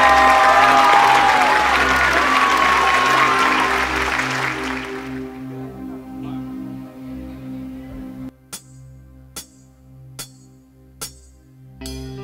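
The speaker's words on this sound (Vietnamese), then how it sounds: "vỗ tay mạnh mạnh hơn nữa được không ạ?" Loud, dense applause from a live show audience fills the first half, then fades out, leaving a quiet musical backdrop with a few sharp isolated percussive hits near the end.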